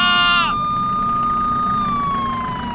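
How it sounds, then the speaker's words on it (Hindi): Ambulance siren as an audio drama effect, a loud wailing tone that opens with a harsh warble, then settles into a long, steady held pitch that sags slightly at the end. "एम्बुलेंस आ चुकी है।"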